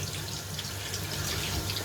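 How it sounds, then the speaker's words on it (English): Warm tap water runs steadily over hands as they are rinsed after handling a bait base mix, a continuous close splashing hiss with no voices. "So it's rinse hands off again"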